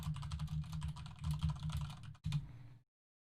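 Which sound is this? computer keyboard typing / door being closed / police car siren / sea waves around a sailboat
computer keyboard typing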